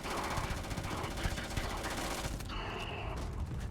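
Sustained gunfire from a full magazine being emptied in Starfield, a dense continuous rattle of shots for about two and a half seconds, then trailing off into a quieter ringing tail.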